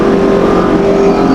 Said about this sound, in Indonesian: Knalpotnya knalpot drum tapi ada 4 silencernya.